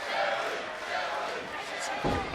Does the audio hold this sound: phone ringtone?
no